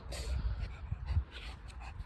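A dog whimpers softly in a few short, breathy whines close by at a tire shop, with faint low rumbling underneath.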